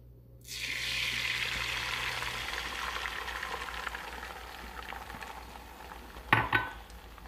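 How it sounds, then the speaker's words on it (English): Egg mixture for a basic omelette hits a hot skillet with a steady close sizzle that holds and slowly softens, ending in a brief clatter of utensil or pan. "I'm going to go ahead and pour this on the skillet"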